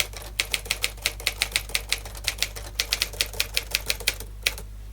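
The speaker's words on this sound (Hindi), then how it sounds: "Typing on a typewriter is different from typing on a keyboard for a computer." A mechanical typewriter clatters out a quick, even series of sharp keystrokes, close and distinct, over a steady low electrical hum, with a short pause near the end.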